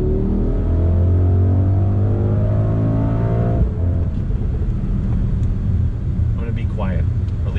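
Engine of a 2021 Mercedes AMG GLS 63 SUV accelerating hard on throttle, a loud rising rumble that climbs in pitch for several seconds, then drops to a rough lower drone with wind noise.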